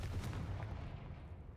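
Spell blast from the Confringo curse in Hogwarts Legacy: a single sharp, fiery burst at the start, then a rumbling, fading explosion tail over ambient game sound.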